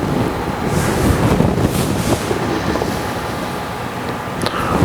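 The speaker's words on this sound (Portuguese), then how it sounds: "agora tampona-se a proveta e agita-se muito bem." A stoppered graduated cylinder holding water and gasoline is shaken vigorously, giving a loud, steady rough sloshing and rumbling close to the microphone with no voices.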